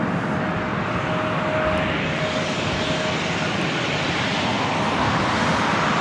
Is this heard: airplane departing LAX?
yes